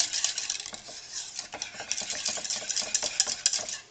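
A spoon stirs cornstarch lemon filling in a pot on the heat, producing quick, irregular scraping and tapping strokes against the pot in a continuous busy rhythm.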